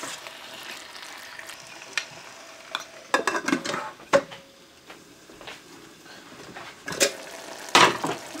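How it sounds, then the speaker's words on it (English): Red bell pepper, tomatoes and onions fry in a pan with a low sizzle, broken by several sharp scrapes and clinks of a utensil stirring against the pan. "this is what's going on with the pepper and tomatoes and onions. Everything is cooking right now."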